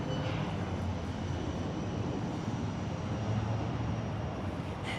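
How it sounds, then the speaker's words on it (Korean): A fixed-wing airplane roars steadily overhead near John Wayne Airport beside an Irvine business complex, a broad, continuous engine rumble that fills the whole stretch without talk. "뒤에 비행기가 지나갔습니다."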